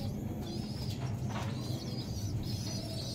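Low, steady pigeon cooing in a loft fills the background throughout, with a faint chirp or two rising above it and no talking.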